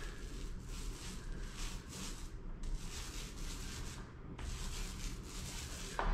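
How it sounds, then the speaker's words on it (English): A paint roller with a 1/2 inch nap rolls a texture coat over repaired drywall around recessed lights, giving a close, steady wet rubbing swish in repeated strokes with brief pauses between passes. "So let me go grab that roller brush."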